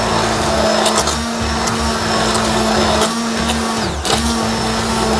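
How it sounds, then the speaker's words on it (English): A stick blender purees tomato sauce with basil for meatballs, making a loud, steady motorized whir that runs continuously and close up, with a brief dip in pitch near the end. "So now we're going to blend it all together with a stick blender."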